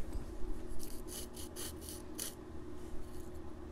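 A wooden guitar brace being sanded by hand, a soft raspy rubbing in a series of short strokes, close and fairly quiet, with no talking.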